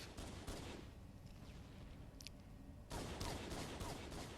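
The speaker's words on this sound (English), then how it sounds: "if you shoot your assault rifle at a certain angle, all your bullet casings will pretty much fly right in your face" Assault rifle fire in Halo 1 on the original Xbox sounds as a faint, continuous crackle of rapid gunfire with a sharper renewed burst near the end, heard alone without voices.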